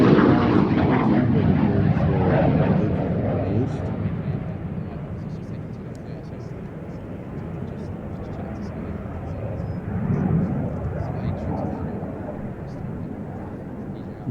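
A swept-wing jet aircraft roars overhead at an air festival, a broad sustained engine rumble that swells and fades slightly while someone narrates over it.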